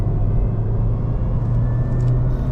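A 2023 Honda Civic RS under way gives a steady engine drone with a faint high whine riding over the low rumble of the road, the sound continuous and close-miked from inside the cabin.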